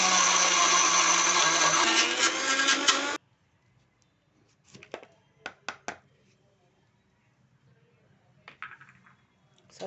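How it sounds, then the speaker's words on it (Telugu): A mixer grinder whirs loudly for about three seconds as it grinds ingredients for homemade protein powder, then cuts off abruptly, followed by a few light clinks and knocks of the jar and utensils. "ఇప్పుడు మిక్సీ పట్టేసుకుంటాను."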